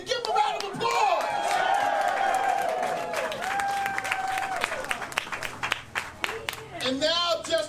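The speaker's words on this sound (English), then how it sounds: "Give him a round of applause." An audience at a voting rights advancement action day event bursts into sustained applause with scattered claps and cheers, while a voice carries on over the crowd.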